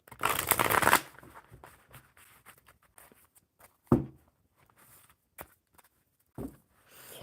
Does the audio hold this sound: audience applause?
no